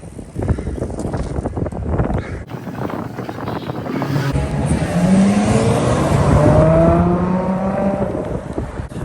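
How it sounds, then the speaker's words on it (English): A fancy car drives past on a downtown Montreal street, its engine rising to a loud, close roar and fading, with a whining tone as it passes amid steady city noise. "but that car looked kind of fancy."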